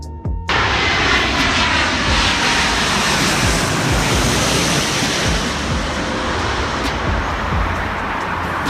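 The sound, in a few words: airplanes landing at San Francisco International Airport in fog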